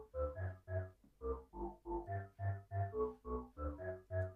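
An air flute synth preset played low on the keyboard as a bass line, a run of short breathy tonal notes in steady rhythm, clear and alone with no talking.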